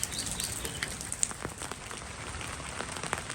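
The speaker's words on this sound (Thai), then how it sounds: "ฝนเริ่มซา" Steady rain patters on surfaces outdoors in a rural Thai setting, a dense, even hiss with scattered close drips, moderately quiet and with no voices.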